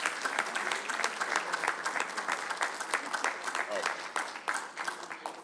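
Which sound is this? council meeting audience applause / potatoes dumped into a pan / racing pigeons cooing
council meeting audience applause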